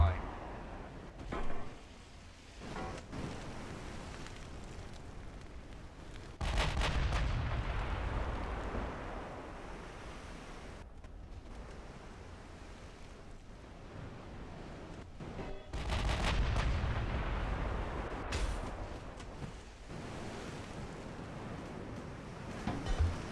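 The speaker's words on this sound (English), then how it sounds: "one of those 16-inch guns hit the light cruiser" Sixteen-inch naval guns fire in the Ultimate Admiral Dreadnoughts warship game: two heavy, booming salvos some seconds apart, each followed by a long rumbling roll, with someone talking over the battle.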